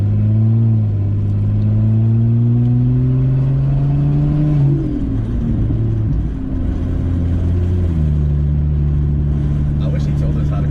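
A 700+ horsepower track car on a test drive pulls hard from inside the cabin, its loud engine drone climbing steadily in pitch for several seconds before dropping and settling into a lower, steady roar.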